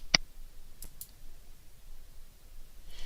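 A single crisp computer mouse click near the start, loud and close, followed by a couple of faint clicks and quiet room tone.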